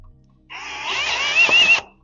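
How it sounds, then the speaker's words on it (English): A tungsten carbide burr in a power tool briefly grinds metal on an AMC Pacer part, a sharp high-pitched whirring burst just over a second long, close and fairly loud. "it's carbide burr time."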